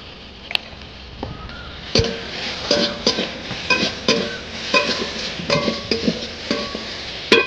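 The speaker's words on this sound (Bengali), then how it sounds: "আর বন্ধুরা এখন একটু সরষের তেল দিয়ে দিচ্ছি আর তারপরে লঙ্কা গুঁড়ো দিয়ে দিচ্ছি।" Mustard oil and chili powder fry in a pan with steady background sizzle, while a utensil stirs and scrapes against the metal in repeated clinks and knocks throughout, close and moderately loud.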